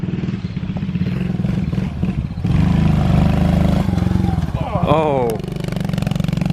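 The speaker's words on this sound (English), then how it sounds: "Basically, we're just riding TJ's pit bike." A small pit bike engine runs close by on a Friday night ride, a steady buzzing chug that rises briefly in pitch as it revs, with voices talking over it.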